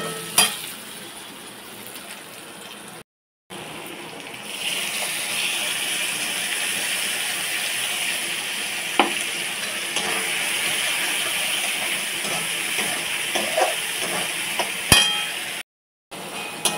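Dhoka lentil cakes fry in a pan with a continuous moderate sizzle, a short gap of silence near the start, and a few faint clinks and stirring taps; no one talks.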